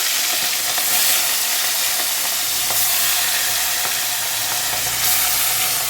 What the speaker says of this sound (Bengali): আর এই পাশে কড়াই বসিয়ে তেল দিয়ে দিয়েছি এবারের মধ্যে মা মাছগুলো ভেজে তুলে নেবে